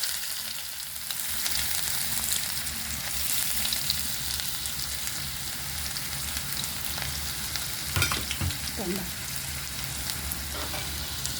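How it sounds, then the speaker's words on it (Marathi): Onion sizzling with mustard seeds in a pan gives a steady, dense crackle throughout, with a few louder clinks and stirring scrapes near the end and no voices. "कांदा चांगला फ्राय होऊन द्यायचा."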